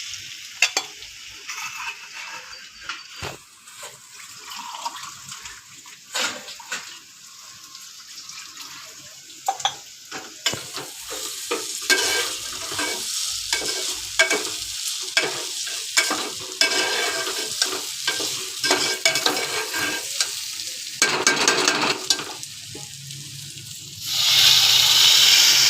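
Food fries in a pan while a spoon stirs it, with scraping strokes over a rising sizzle that turns louder and denser toward the end.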